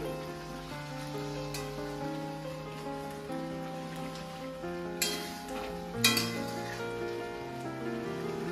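Meat for biryani fries and is stirred in a pan, a quiet, steady sizzle with a few sharper scraping knocks, heard under tonal background sound.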